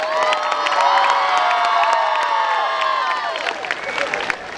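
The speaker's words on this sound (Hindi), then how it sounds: "एक बार जोरदार तालियां बजाएं" Live comedy show crowd in Orissa cheering, whooping and clapping after the performer prompts them, a loud sustained roar of voices with scattered claps that eases slightly toward the end.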